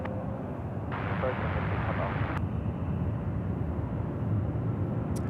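An Emirates Airbus A380 drones on final approach to runway 34 left at Sydney Airport, a steady, broad engine roar that grows slightly fuller partway through, with radio voices and ambient noise mixed in.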